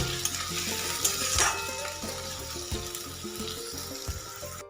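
Potatoes and onion frying in hot oil, a steady close sizzle with stirring scrapes and clinks running throughout, no talk.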